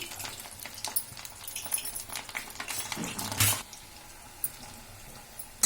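Gram flour murukku dough pressed into hot oil, frying with a steady broadband sizzle and crackle throughout, brief louder bursts near the middle, fairly close and without talk.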